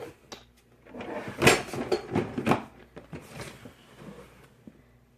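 A drawer of scrapbooking embellishments slides open and shuts with wooden thuds and rattling contents, loud and close, a few clattering bursts over about five seconds.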